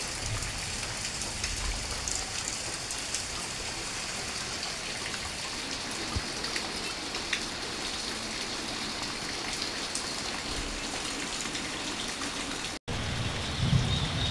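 Heavy unseasonal rain pours down in a windy storm, a steady dense hiss with occasional low thumps and rumbles throughout.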